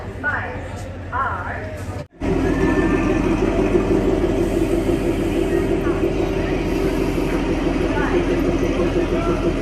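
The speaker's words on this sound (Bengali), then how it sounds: "এই ইঞ্জিনটা এখানে এসেই লাগবে আর কি" A Kalka Shimla toy train engine arriving to couple on the Shivalik Deluxe Express, a loud steady low diesel rumble and drone after a brief break, with voices talking nearby before it.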